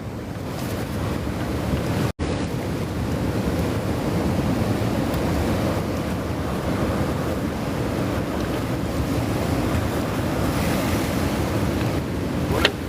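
Strong wind rushes and buffets the microphone at a surf beach, with steady crashing waves underneath, loud and continuous throughout.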